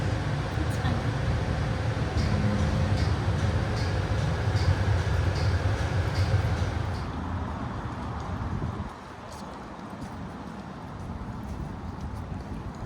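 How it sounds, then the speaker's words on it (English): Steady rumbling and clattering of a passenger train riding toward a convention center in San Jose, loud and continuous, with rhythmic clicks in the first half before the noise drops slightly and carries on more softly. "back on the train for another ride to the convention center."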